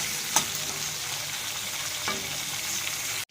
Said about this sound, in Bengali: আমটাকে একটু সুন্দরভাবে নাড়িয়ে চালিয়ে নিতে হবে